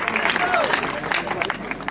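Audience clapping at a Hindi kavi sammelan poetry gathering, a steady dense patter of many hands throughout, with crowd murmur and a voice mixed in.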